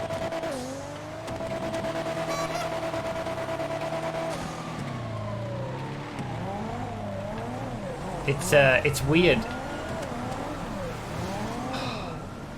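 Drift car in the GTA FiveM game, its engine droning and shifting pitch through long slides with a brief burst of tire squeal midway, under a voice talking throughout.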